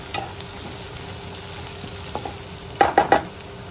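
Onion and green chillies stir-fry in a pan over a steady low sizzle, then a few sharp scraping stirs near the end stand out clearly. No one speaks.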